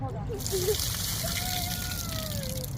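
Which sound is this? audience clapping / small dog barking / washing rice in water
washing rice in water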